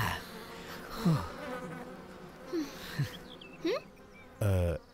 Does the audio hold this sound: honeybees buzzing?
yes